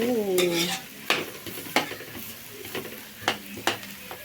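Tofu tipped into a pan of sautéing garlic, onion and carrots: a brief sizzle up front, then a series of sharp scraping stirs and utensil clacks against the pan, close and without talk.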